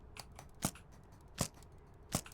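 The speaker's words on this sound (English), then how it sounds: "You hear me mad clicking because I'm spamming the mouse button" A computer mouse button clicks three times at an even pace, each a crisp, close, isolated tap over quiet background hiss.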